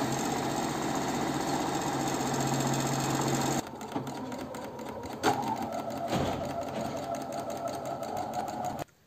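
A sewing machine stitches around a round fabric sunflower piece with a loud, steady mechanical whir. It stops after a few seconds, followed by quieter handling and rustling.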